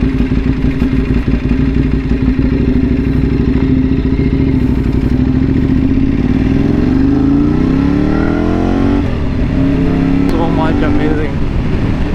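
A light motorcycle leans into a tight U-turn corner, its engine droning steadily up close and then revving up as it pulls out, with a rider talking over the noise.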